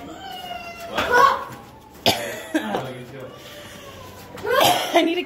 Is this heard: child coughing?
yes